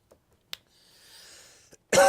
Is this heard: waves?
no